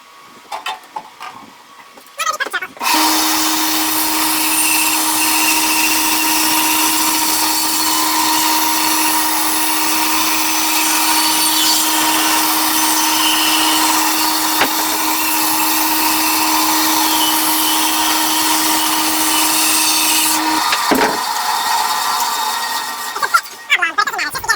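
A bowl on a wood lathe is shaped with a five-eighths Carter & Son bowl gouge, giving a steady motor hum and a continuous scraping hiss of cutting for about eighteen seconds before spinning down.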